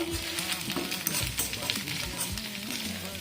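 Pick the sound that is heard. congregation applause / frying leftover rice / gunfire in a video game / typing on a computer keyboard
frying leftover rice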